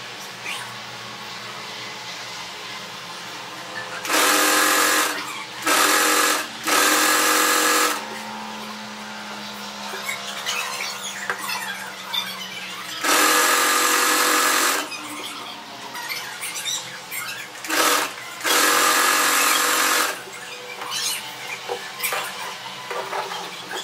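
A sewing machine stitching frills onto cloth for a frock, several short loud bursts of fast mechanical whirring separated by quiet pauses, with handling noises in between.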